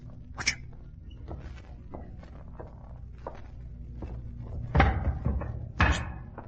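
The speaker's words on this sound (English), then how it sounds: "He's pushed the table to one side." Radio-drama sound effect of a table being shoved aside in a room: scattered wooden bumps and scrapes, then two louder thuds near the end, fairly close and without speech.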